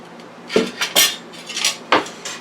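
A clean pan knocked and handled while pulled turkey goes in, giving a few sharp metallic clanks and scrapes at close range with quiet moments between them.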